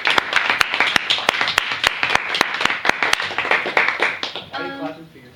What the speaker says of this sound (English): Are you clapping for yourself?